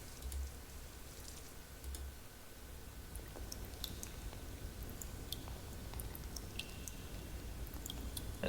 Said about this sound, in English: Single drips in cave.